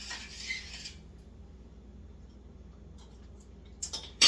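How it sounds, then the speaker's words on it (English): Mac and cheese stirred in a pot, a short scraping rustle of a utensil at the start, then quiet, with a few sharp clinks of metal against the pot at the end. "Give that a little stir."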